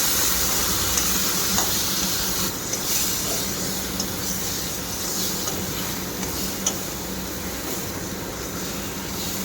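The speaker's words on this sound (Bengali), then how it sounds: "বন্ধুরা দেখো, মশলা কই তেলের মশলা কষানো হয়ে গেছে।" Spice paste fries in oil in a pan for a Bengali fish curry, a steady soft sizzle and hiss with occasional faint stirring scrapes, close and fairly quiet.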